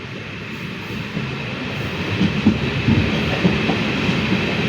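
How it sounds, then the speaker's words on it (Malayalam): A train pulls away from Mavelikkara railway station, its steady rolling rumble building gradually with soft rhythmic clacks of wheels over rail joints, heard from aboard with no talk. "3:55 കഴിഞ്ഞപ്പോൾ മാവേലിക്കര റെയിൽവേ സ്റ്റേഷനിൽ നിന്നും ട്രെയിൻ പുറപ്പെട്ടിരിക്കുകയാണ്."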